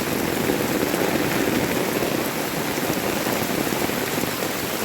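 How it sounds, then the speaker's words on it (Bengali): Heavy rain falls steadily on a flooded area where homes and roads are underwater, making a dense, loud, unbroken hiss with no voices over it. "প্রচুর পরিমাণে বৃষ্টি হতেছে"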